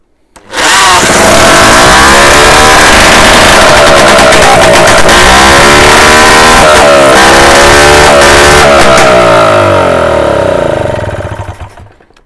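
A small two-stroke engine on a red Solex 3800 moped starts up near and loud, then runs with a buzzing, uneven rattle, revving slightly before cutting out at the end.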